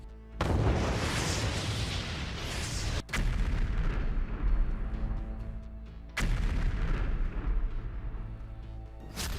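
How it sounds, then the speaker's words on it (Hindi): Loud explosions in a Ukrainian city boom and roar continuously, with a couple of sharp blasts cutting through a rumbling, crackling barrage. "यूक्रेन के शहर में नॉन स्टॉप धमाके हो रहे हैं।"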